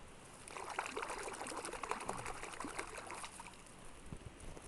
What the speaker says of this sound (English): Then you want to rinse it off in the water.